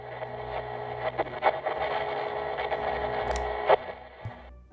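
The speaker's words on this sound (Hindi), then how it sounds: "उस रेडियो से तो पहले सिर्फ शोर आया," An old rusty radio switches on by itself in a horror story, producing a steady mechanical buzzing hiss with a few sharp clicks and crackles, fairly loud and close, fading at the end.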